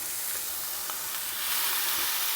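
A weighted-down beef smash burger patty fries on a hot plate, giving a close, steady hissing sizzle with faint crackles and pops, no voices.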